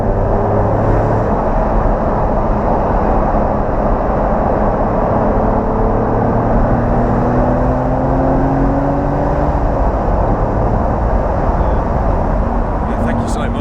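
An Alpina Roadster S car driving, with a steady loud road and engine roar throughout and slowly rising and falling engine tones, a voice talking over it.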